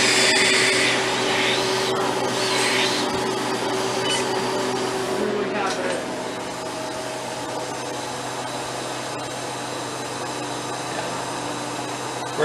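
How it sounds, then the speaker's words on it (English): Air hissing into a Harvest Right freeze dryer as the vacuum is released through the drain valve, a steady loud rush that eases slightly partway through, with a voice talking over it. "You gotta open this valve over here to let the vacuum out"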